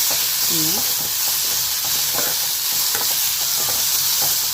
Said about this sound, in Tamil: இப்போ வெங்காயம் நல்லா வதங்கிட்டு வெங்காயம் நல்லா வதங்கணும்